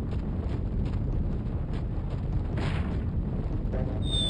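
A boulder rolls after the player in Uncharted 4, a continuous heavy low rumble with roaring, wind-like noise that surges near the middle, no talk over it.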